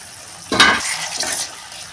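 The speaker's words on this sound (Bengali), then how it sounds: "টমেটোটা আমি ভালো করে কষিয়ে নেব।" Tomatoes fry in a pan for a Bengali fish gravy, a brief swell of sizzle and scraping stir lasting about a second before fading back to quiet.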